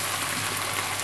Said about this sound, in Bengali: এবার চিকেনটাকে এই পেঁয়াজ এবং মাশরুমের সাথে ভেজে নিতে হবে।